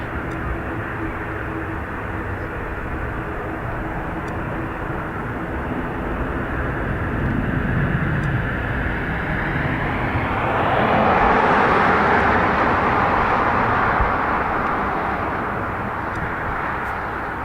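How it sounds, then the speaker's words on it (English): An ATR turboprop airliner on a full-length takeoff roll at Dublin Airport, a loud steady engine roar with a low propeller drone that swells and brightens midway as the aircraft powers past, then holds strong. "Full length ATR, so this isn't going to hang around."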